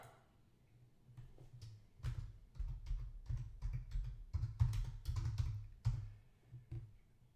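Quiet bursts of typing on a computer keyboard as a file name is entered, irregular clusters of soft close key taps with brief pauses between them.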